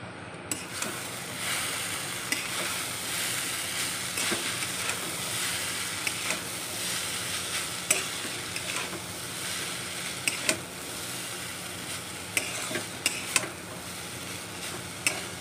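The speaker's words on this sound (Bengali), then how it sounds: "আর এটাকে এখন সুন্দর করে একটু ভাজি, আর ভেজে এর মধ্যে মশলাটা দিয়ে দেবো।" Chow mein noodles frying in a pan and being stirred with spices, a continuous sizzle broken by frequent sharp scrapes and clicks of the spatula, close and steady, without talk.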